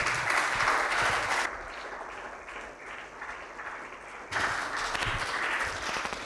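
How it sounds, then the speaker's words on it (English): Audience applause at a university collaboration and signing ceremony as a signboard is unveiled on stage, loud at first, dipping to a quieter patter in the middle, then swelling again near the end. "let us have a big round of applause as we unveil the combination of social reform as well as a spiritual organization in unison"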